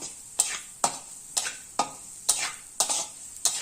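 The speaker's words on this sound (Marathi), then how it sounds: "चांगले हलवत राहूया, चांगले परतून घेऊया" Tandulka greens being stirred and sautéed with coarse chili powder in a pan make a regular run of eight sharp scraping strokes about half a second apart over a faint sizzle, with no voices.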